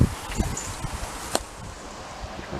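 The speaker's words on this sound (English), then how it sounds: "The wind's just got up a little bit." Wind sweeps across an allotment garden as a broad steady rush, with rustling foliage, scattered light knocks and a soft thud near the start.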